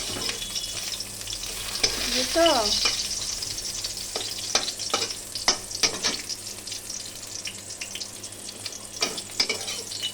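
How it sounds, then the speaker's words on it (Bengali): Pointed gourd (potol) sizzles steadily while frying in a home kitchen pan, with scattered scraping stirs and clinks throughout. A voice speaks a brief word. "পটলটা ভাজা হয়ে এসছে"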